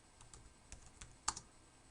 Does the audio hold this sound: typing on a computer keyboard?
yes